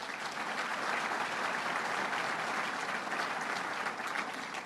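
A room full of people at Governor Cuomo's Southern Tier budget address gives Assemblywoman Donna Lupardo a steady, continuous round of applause, an even wash of many hands clapping at moderate distance.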